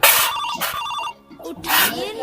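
A phone ringtone plays loudly in repeating melodic bursts, pausing briefly before sounding again.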